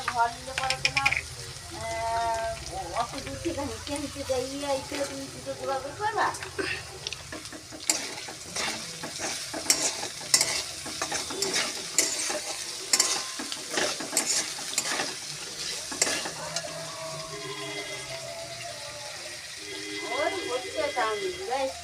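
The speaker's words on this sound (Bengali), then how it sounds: "সবজিটা আমার ভাজা হয়ে গেছে, আমি একটু লবণ দিয়ে দেব এখানে।" Vegetables for chow mein stir-fried in a pan, with steady sizzling and repeated scraping and stirring strokes, someone talking over the cooking at times.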